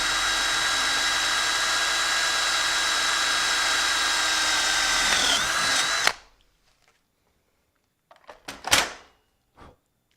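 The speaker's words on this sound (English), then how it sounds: "Now I'm using a slightly smaller drill bit here" A power drill with a small bit bores into a wooden workbench frame, running loud and steady for about six seconds before stopping abruptly, followed by a few brief clunks and handling knocks.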